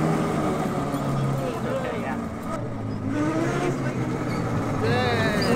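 Engine of a homemade amphibious go-kart boat running steadily on light throttle, a continuous droning hum with slight rises in pitch, heard close throughout.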